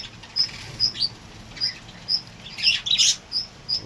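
Young birds about ten to fifteen days old, feathers coming in, give sharp high chirps while being handled, a regular run of close, loud peeps with a busier cluster near the end.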